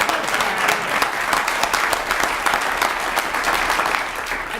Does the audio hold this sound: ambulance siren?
no